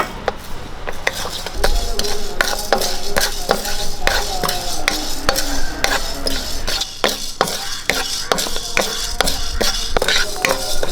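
A utensil stirs rice as it dry-roasts in a pan for homemade sambar powder, giving steady scraping, clinking and rattling strokes in an irregular rhythm, close and clear throughout.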